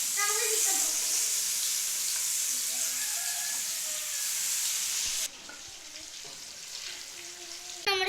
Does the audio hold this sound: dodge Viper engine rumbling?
no